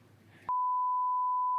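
A steady, loud single-tone censor bleep runs for about a second, cutting in abruptly right after a stretch of conversational talk on an Indonesian podcast.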